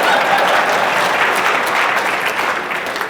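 A crowd at a business conference in Asheville, North Carolina claps in a full, even burst of applause, loud and dense from start to finish with no talk over it.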